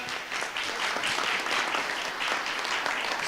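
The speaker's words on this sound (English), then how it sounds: "Let's give our scholars a wonderful round of applause for doing that." Audience at a school board meeting applauds in a steady, full round of clapping from many hands, continuous from start to finish with no voices over it.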